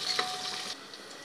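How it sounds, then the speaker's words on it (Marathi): Onion frying with garlic in a pan, a steady close sizzle that stays even for a moment before easing off quieter at the end. "कांदा थोडासा लालसर होईपर्यंत आपल्याला तळून घ्यायचा आहे"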